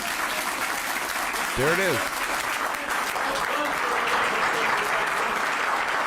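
Dense, sustained applause from a large audience as a speaker finishes a speech, steady and loud throughout, with a brief spoken remark over it.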